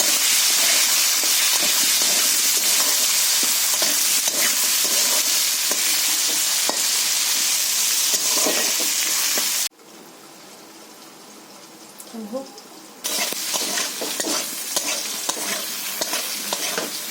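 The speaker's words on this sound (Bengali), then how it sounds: "তেল দিয়ে আমি কাঁচা টমেটো এবং আলুটা একটু ভেজে নেব বন্ধুরা" Raw tomato and potato fry in oil in a wok, a loud steady sizzle with stirring scrapes that drops away briefly midway, then resumes.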